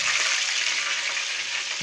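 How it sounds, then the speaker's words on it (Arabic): Cauliflower florets frying in hot oil: a steady, close hiss of sizzling that holds evenly throughout, with no talking. "حتى نقمر الزيت تحمو باش نقلي الشوفلور هكا"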